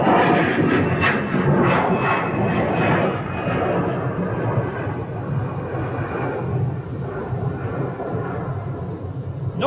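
American Airlines Boeing 777 jet departing Phoenix airport: a loud, broad rumbling roar that slowly fades over about ten seconds.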